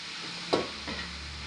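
Sautéed onion and tomato stirred in a pan for ginisang pechay: one distinct scrape, then a softer second pass, over a faint, quiet sizzle.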